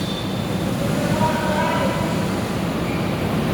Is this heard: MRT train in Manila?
yes